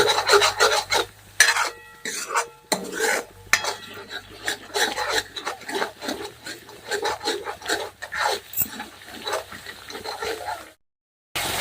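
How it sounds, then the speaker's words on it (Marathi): Dark masala for a Khandeshi dubuk vada curry roasts in oil in a pan over low heat, with a spoon scraping and stirring in repeated rasping strokes, close and moderately loud, briefly pausing near the end. "चार ते पाच मिनटं छान मसाला असा भाजून घ्यायचा आहे तेलामध्ये"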